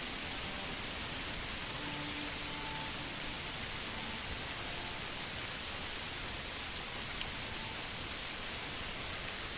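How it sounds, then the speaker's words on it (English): A steady downpour of heavy typhoon rain in Manor Lords hisses continuously, thick and close, with faint scattered drips and no speech. "Man, the weather is picking up. That is ASMR quality rain."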